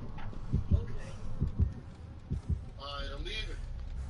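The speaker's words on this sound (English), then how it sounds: "Alright, the heartbeat's gone. No, it's not. It's back." A heartbeat warning from Dead by Daylight thumps steadily in low double pulses. Players talk over it, and a soft musical tone rises near the end.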